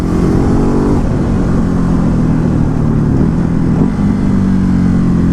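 A Ducati Hypermotard 950 motorcycle engine on a test ride, a loud, steady, close drone with a low growl that holds throughout and dips briefly once or twice as the throttle eases.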